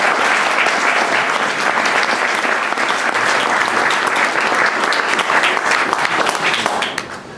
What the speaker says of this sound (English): So I want to give everybody who presented a round of applause